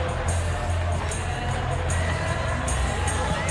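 Stadium crowd noise in the PES 21 football game, a continuous loud roar of supporters cheering with a commentator talking over it.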